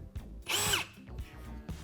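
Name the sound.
power drill running a door planer attachment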